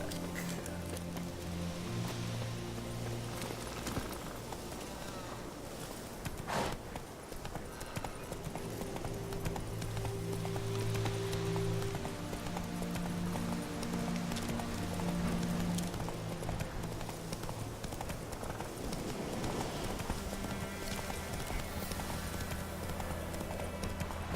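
Roach, a horse in The Witcher III, gallops with continuous rhythmic hoofbeats at moderate volume, blended with game music and ambience over the whole stretch.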